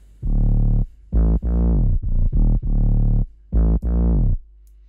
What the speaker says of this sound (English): It's a very simple 808 rhythm